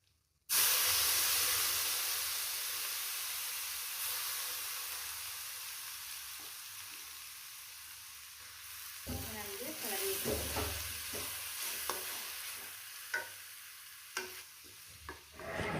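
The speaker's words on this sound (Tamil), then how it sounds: "இதை ஒரு 5 minutes போல் நல்லா வதக்கிட்டு கொஞ்சம் பாயில் பண்ண விடுங்க." Grated gooseberry, capsicum and carrot sauté in hot oil with a steady, loud sizzle that fades slowly. Later come bursts of stirring and scraping, ending in a few sharp clinks.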